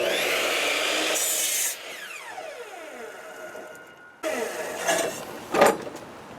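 A length of pressure-treated wood being sawn, with steady rasping strokes of a blade up close, a pause, then a few more cutting bursts and a final crack.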